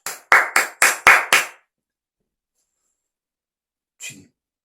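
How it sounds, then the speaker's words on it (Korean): A single person claps six times, sharp and close, in quick succession during a Bible study lecture; silence follows, broken by one faint short sound near the end. "박수 쳐."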